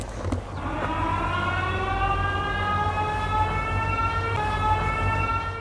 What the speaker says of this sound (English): I hear like a police siren or something.